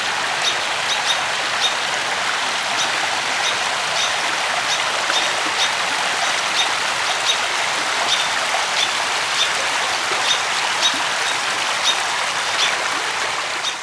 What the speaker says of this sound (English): It's kind of nice to just sit here for a second and listen to the water and the birds chirping.